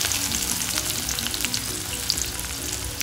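Chopped onion fries in a pan of hot oil, giving a loud, dense, continuous sizzle with crackling pops close up and no pauses.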